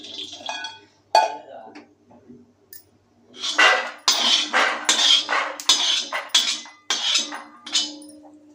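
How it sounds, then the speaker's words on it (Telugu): Peanuts being dry-roasted in a pan for peanut powder in a home kitchen, with repeated rattling and scraping bursts as a spatula stirs them, close and fairly loud. "నేనైతే ఇక్కడ పల్లి పొడి ప్రిపేర్ చేయడానికి పల్లీలు ఉన్నవి వేయించుకుంటున్నానండి"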